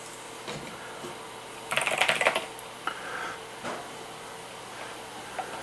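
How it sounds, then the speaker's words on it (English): A burst of rapid keystrokes clatters on an 8BitDo C64 Edition retro mechanical keyboard, followed by a few scattered, isolated key presses over a faint hiss. "And we'll just do some typing."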